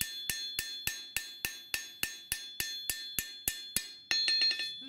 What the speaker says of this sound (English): and more hammering might be required